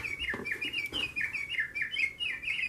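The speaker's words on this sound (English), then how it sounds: "Oh, that's the house finch." A house finch chirps and warbles in a quick run of high, bright notes that continues without a break, fairly close and clear indoors with no talking.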